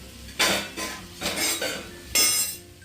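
A metal spoon scrapes and clinks against a pan as capsicum (shimla mirchi) sabzi is stirred, giving a few short, fairly quiet bursts of clatter separated by pauses.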